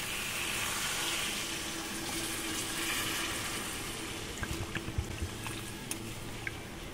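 Water pours steadily into a pan of mutton curry with fried potatoes, a close continuous gushing, then a few small clinks and splashes near the end, with no talking.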